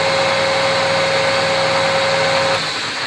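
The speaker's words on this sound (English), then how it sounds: "I will now cut the thread lead on the outside of the barrel." Steady high-pitched machining whine with a strong constant tone from a lathe cutting a thread lead on the outside of a custom rifle barrel. It runs continuously and alone, then eases off slightly near the end.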